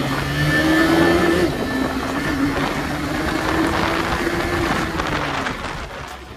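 Two KTM Duke 250 motorcycles run hard at full power, making a loud, sustained engine roar with rising and falling pitch as they pass close, with no voices over it.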